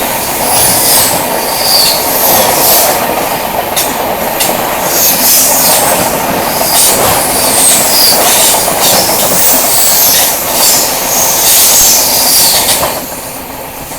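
The Purvottar Sampark Kranti express roars past at close range with loud rumbling, rhythmic wheel clatter and high squealing from the wheels, holding steady before easing off near the end.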